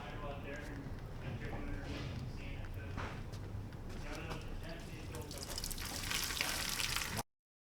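Coolant drains from a BMW engine block at the drain plug on the motor mount side during a valve seal replacement, a steady close spatter and trickle that grows brighter near the end, with a voice faintly underneath.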